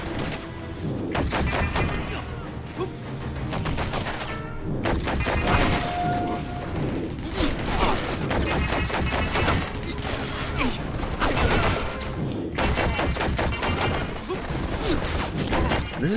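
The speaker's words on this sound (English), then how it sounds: "heavy machine gun doesn't kill people in one shot" Heavy machine gun fire in the video game Stranglehold comes as dense, sustained bursts of rapid shots. Booms and crashing impacts join in, with short gaps between long volleys, all loud and close.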